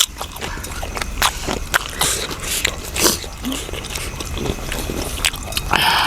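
Close, loud crunchy chewing of a raw beef and liver dish with bitter dipping sauce, with irregular wet bites and crunches running steadily throughout, with no talking.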